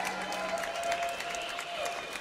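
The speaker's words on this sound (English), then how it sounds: "Becky got a great cheering section there" Spectators cheering and applauding a competitor's demo run at an obstacle course championship, a steady wash of clapping and shouts from a moderately distant crowd.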